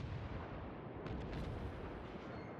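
Main battery salvo from the battleship Mutsu in World of Warships, a deep rumbling boom that swells at once and rolls on through the clip with a few crackling bursts, loud and sustained, with no voices.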